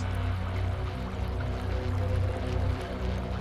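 Continuous watery trickling and dripping, fairly steady and close, with a low rumbling hum underneath and no voices.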